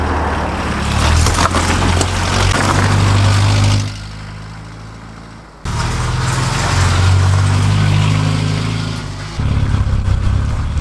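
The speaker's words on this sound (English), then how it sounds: "Buzzing along, all 748cc propelling us northwards" A small rear-engined French car with a 748cc water-cooled four-cylinder engine and three-speed gearbox drives along, a loud steady buzzing drone from inside with a brief lull before the engine pulls again.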